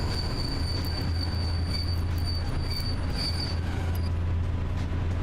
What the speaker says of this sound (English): it takes a while to stop this train